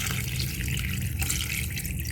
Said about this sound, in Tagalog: lagay na po natin yung tubig